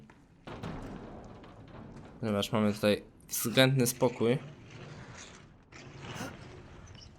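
Door in Resident Evil 7: Biohazard creaking and clunking open with mechanical latch and ratchet sounds, followed by a soft thud, while someone speaks over it.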